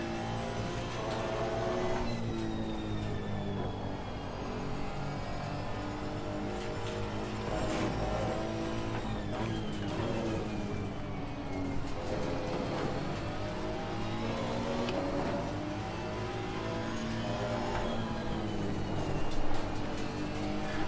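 Race car engine roar in Assetto Corsa Competizione, with a Honda NSX GT3 running close ahead of a pursuing Aston Martin, steady layered engine drone rising and falling with revs and shifts for the whole stretch.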